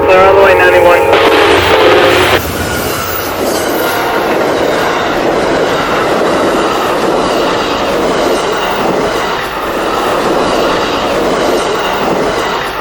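An Amtrak passenger train passes with engine 188 leading and engine 42 trailing, a loud close rush of rolling wheels and rumbling cars following a brief burst of horn-like tone at the start.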